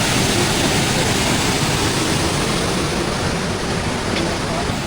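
Loud, steady roar of rushing water from Randha Falls at Bhandardara, Maharashtra, during the monsoon, a dense broadband wash that fills the whole clip without pause.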